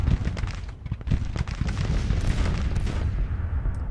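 Rolling artillery booms and crackling gunfire overlap densely and loudly in a Grand Tactician: The Civil War battle, thumping cannon reports mixing with a continuous rumble.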